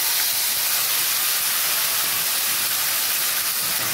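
Dal added to a hot pan on high heat gives a loud, steady steamy hiss that fills the whole stretch without a break. No speech.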